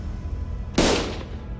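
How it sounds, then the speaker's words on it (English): A single sharp gunshot in the video game Limbus Company bursts out loud and close after a low steady background hum, then decays over a short tail. "Gunfire filled my ears."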